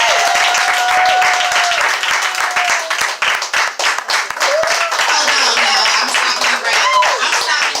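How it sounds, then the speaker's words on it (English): An open-mic audience at a poetry show claps and applauds steadily and loudly for several seconds, with a voice talking over the dense clapping. "Y'all clap it up one more time"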